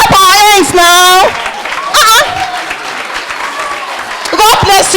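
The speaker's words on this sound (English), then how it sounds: "Let's clap our hands now" Audience at a church youth program clapping for a welcomed reverend, the clapping heard under loud speech from an announcer at the start and end, with a crowd murmur in between.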